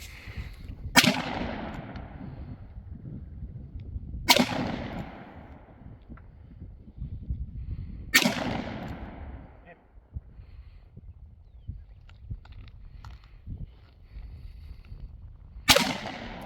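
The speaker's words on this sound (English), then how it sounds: "my first time hip shooting a 45, I'm pretty tickled with that" Four sharp gunshots from an 1873 single action .45 revolver fired from the hip at an outdoor range, spaced several seconds apart, each with a short ringing tail, with people talking quietly between shots.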